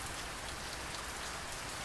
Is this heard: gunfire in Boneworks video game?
no